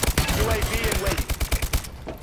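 Rapid bursts of video game gunfire from a large-magazine gun during a hardpoint match, with fast repeated shots close up, game voice lines heard underneath, and an abrupt stop near the end.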